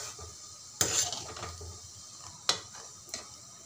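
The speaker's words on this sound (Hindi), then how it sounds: "अब इसे चलाते रहेंगे।" A spoon stirs butter melting into ghee in a pot, giving a few faint, sharp metallic scrapes and clinks spaced over a few seconds against a quiet background.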